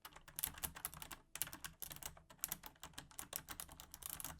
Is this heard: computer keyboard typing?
yes